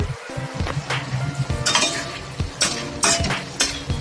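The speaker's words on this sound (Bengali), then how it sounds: "5 মিনিট পর ঢাকা খুলেছি।" A lid comes off a pot of spicy Bengali cheowa fish curry with metallic clinks and a scrape, then steady sizzling simmering and further utensil clatter close by.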